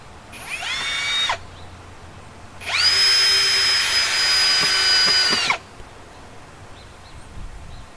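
A power drill drives 3-inch screws into wood while building a cheap wooden greenhouse, two close, loud whirring bursts, a short one and then a longer one of about three seconds, with the motor pitch sagging under load and no talk.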